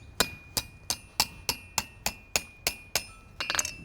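A hammer strikes metal on an anvil while forging a pilum point, ten evenly spaced, sharp ringing blows about a third of a second apart, followed by a quicker flurry of lighter taps, close and clear.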